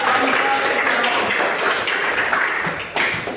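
A classroom full of students claps together at the end of a group presentation, a dense wash of applause at steady loudness that tapers slightly near the end.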